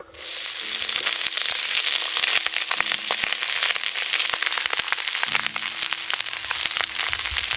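Rice dropped by hand into a pan of sizzling cumin seeds, bay leaf and dried red chilies for jeera rice, crackling and spitting loudly and steadily throughout, with sharp pops scattered over the dense fry.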